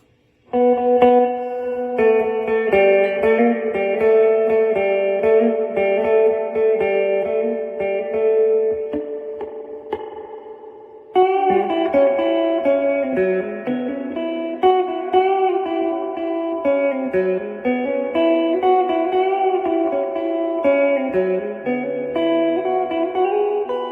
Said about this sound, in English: now we'll put it on overdrive with the reverb up.